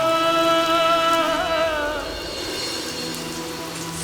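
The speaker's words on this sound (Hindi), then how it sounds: "अगर बारिश हो रही है" Steady rain falling with a constant hiss of drops, while a sustained melodic vocal tone fades out over the first half, leaving only the downpour.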